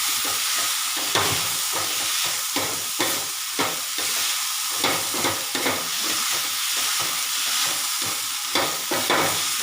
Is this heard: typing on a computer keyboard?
no